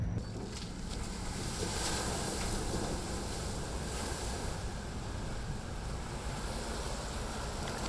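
Continuous rushing water and wind noise as an amphibious river bus moves along on a river, a steady broad wash with no voices.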